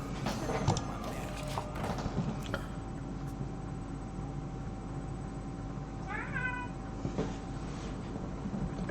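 A house cat gives a short meow partway through, set over a low steady hum with a few scattered clicks and taps.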